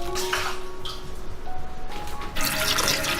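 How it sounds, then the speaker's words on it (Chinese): Soaked shiitake mushrooms and wood ear fungus are rinsed in water, with close splashing and swishing at varying loudness and a heavier surge of running water near the end. "冬菇跟木耳也清洗干净。"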